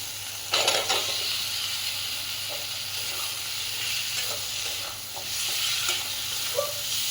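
Potatoes frying in spice paste in a pan while being stirred, a steady sizzle with occasional scraping and clinks, close and continuous with no talking.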